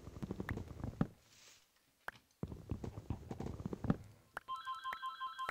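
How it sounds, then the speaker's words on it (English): A mobile phone ringtone starts partway through and keeps ringing in a steady repeating electronic pattern, heard after a stretch of clicky in-game noise. "And wow, my phone's ringing"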